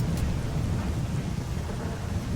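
Steady rain pours with a low rumbling of thunder in STALKER Call of Pripyat, a continuous dense wash of noise close around with no voices.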